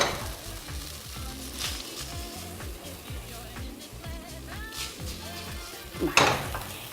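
Vegan batter mixture is stirred in a hot pan, with continuous sizzling and frying beneath rhythmic scraping strokes and a sharper clink of a utensil toward the end.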